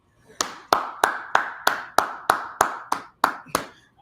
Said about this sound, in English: I'm clapping to everybody that said that they played Kyle Pitts in the playoffs.